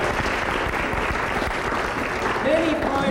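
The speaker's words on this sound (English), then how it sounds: "How about another round of applause for Joy Goebel, who was our pianist." A round of applause from the audience at a flamenco fiesta evening, dense clapping throughout with a voice speaking over it toward the end.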